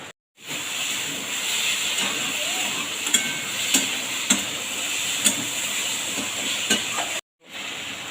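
Chikni saag curry bubbling in a village kitchen, a steady sizzling hiss with small pops breaking through at intervals, close and continuous.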